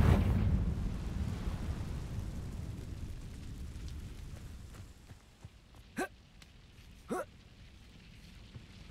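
A fire-spell explosion in Hogwarts Legacy makes a loud rumbling blast that slowly fades, followed by two short, sharp magical cracks near the end.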